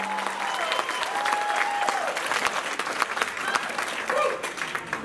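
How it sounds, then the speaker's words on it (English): Concert audience clapping in sustained, dense applause with scattered cheers and a few whistles, steady throughout. "How about a round of applause for everybody that's been here this weekend?"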